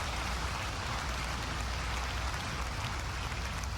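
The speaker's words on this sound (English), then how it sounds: "I'm not sure why the audience is clapping" A large crowd in Chicago applauds during President Obama's farewell address, producing a dense, steady roar of clapping that washes on without a break, with no speech over it.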